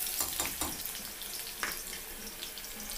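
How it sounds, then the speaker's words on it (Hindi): Potatoes frying in a pan, a faint continuous sizzle with a few soft scraping stirs near the start and one more partway through, fairly quiet and close with no talking. "यहाँ पर आलू डाला है मैंने, उसे फ्राई कर रही हूँ।"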